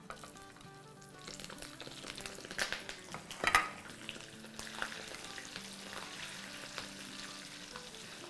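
Halved mildly hot green chillies frying in a pan, a close, bright sizzle with crackling bursts and metallic clinks of utensil against pan around the middle, no voices.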